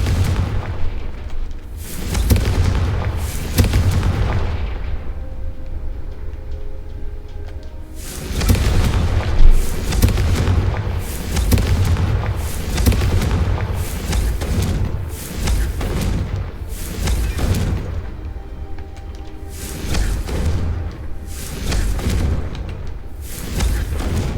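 Repeated spell blasts (Incendio, Expelliarmus, Confringo) fire in a Harry Potter video game as a loud, continuous run of heavy booming explosions in quick succession, with dense rumbling impacts filling the whole stretch and no talking.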